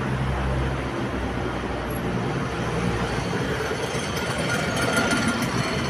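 Busy city traffic in Tbilisi, Georgia: a continuous dense roar of engines and tyres passing close by, steady throughout with no gaps and no voices.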